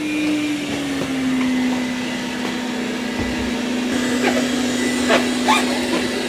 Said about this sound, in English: It's doing a pretty good job vacuuming on the carpet.